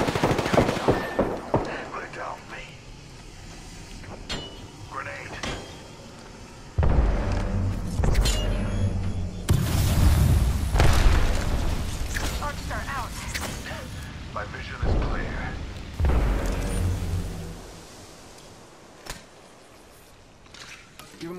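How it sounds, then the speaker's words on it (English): Apex Legends combat with a grenade blast: heavy booming explosion bursts and rapid gunfire, loud and dense, with a voice speaking briefly in between. "Grenade."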